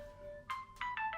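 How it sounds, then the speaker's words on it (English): A mobile phone ringtone sounds as Grandma calls: a steady tonal hum, then three bright chiming bursts in quick rhythm, moderately loud and close, with no talk over it. "Right, that's my phone ringing, Kerry."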